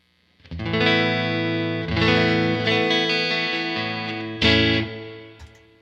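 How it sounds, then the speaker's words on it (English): A PRS Silver Sky electric guitar played through its neck pickup into a flat-set amp with a touch of reverb, ringing chords and single notes strummed repeatedly, close and full, with no talking. "a bit of reverb on there. So this is the neck pickup."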